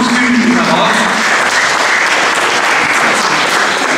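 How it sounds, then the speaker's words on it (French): An audience applauds at a francophone awards ceremony, dense continuous clapping filling the hall at full volume without a break. "Je vous demande de les applaudir"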